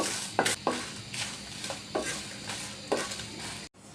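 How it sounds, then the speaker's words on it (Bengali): Dry red chillies roasted in a pan on high flame while making a jackfruit-seed bharta. Soft frying noise runs under repeated scraping and stirring knocks of a utensil against the pan, close and fairly quiet. "এখন আবার হাই ফ্লেমে বেজে নিচ্ছি এবার কয়েকটা শুকনা মরিচ আমি টেলে নিচ্ছি"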